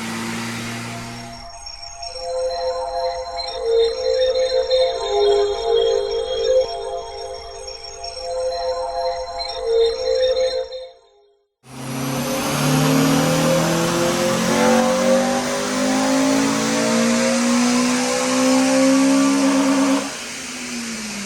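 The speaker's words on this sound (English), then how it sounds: "so FN2 Civic up on the dyno, warming up" A Honda Civic FN2 Type R warms up on a dyno: a steady engine note holds for several seconds, drops out briefly, then climbs into a loud, rising rev that sweeps upward before easing off.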